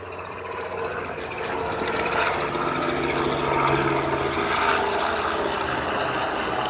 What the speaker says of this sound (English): Now here come a helicopter.